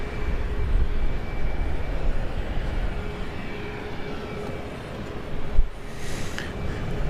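Airliner taking off at Dallas Love Field at night: a broad, steady roar of jet engines heard from a distance, with a brief thump partway through.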